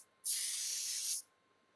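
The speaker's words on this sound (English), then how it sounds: "so I'm just going to spray that through my hair." A single steady hiss of hair heat protectant from an aerosol can, sprayed through hair for about one second, close and clear against a quiet room.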